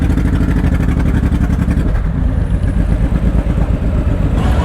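A BMW R18 motorcycle pulls away hard toward full throttle at the Sturgis Motorcycle Rally, its loud, close engine roar changing pitch under heavy acceleration with a little clatter and wind.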